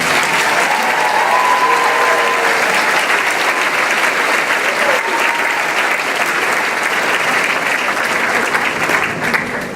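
A large audience applauds high school graduates at a graduation ceremony, a dense, loud and steady wash of clapping that carries on alone for nearly ten seconds.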